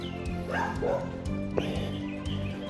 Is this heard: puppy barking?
yes